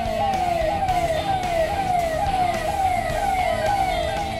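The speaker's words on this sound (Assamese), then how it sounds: "বিকটকৈ চাইৰেন বজাই অতিষ্ঠ কৰিছে সাধাৰণ লোকক" A VIP convoy siren wails continuously, its pitch sweeping up in quick repeated cycles, loud and close amid road noise.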